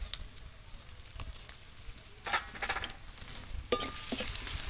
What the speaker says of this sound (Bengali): আমি এখন কড়ার মধ্যে তেলটা দিয়ে দিচ্ছি। এর মধ্যে তেলটার মধ্যে পেঁয়াজ কুচিটা দিয়ে দিলাম